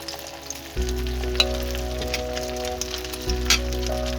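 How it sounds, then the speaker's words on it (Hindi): Beaten egg mixture hits a hot pan and sizzles steadily, a close, even frying hiss that continues with a low hum and occasional soft pops and clicks, no voices. "जो हमने एग बनाया था उसको इस तरह से हम फ्राई कर लेंगे सारे को"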